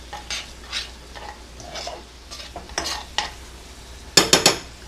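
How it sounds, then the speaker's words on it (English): Onions caramelizing with dark brown sugar in a pan, stirred in a few short scraping strokes over a quiet background, ending with three louder, sharper scrapes near the close. "Stir it again."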